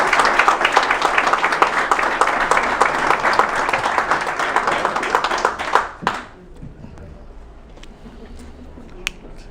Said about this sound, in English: If everyone could give a round of applause for Governor Cook.